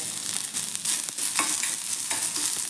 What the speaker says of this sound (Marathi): हा कांदा देखील आपण व्यवस्थित असा थोडा परतून घेऊयात